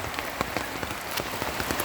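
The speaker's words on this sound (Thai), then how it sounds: "ฝนมันตกย่างรุ่นแรงตลอดเลย" Heavy rain pours steadily outdoors during a mushroom-foraging trip in Yasothon, Thailand, a dense, even hiss of drops pattering on surfaces with scattered sharper splashes throughout, no voices.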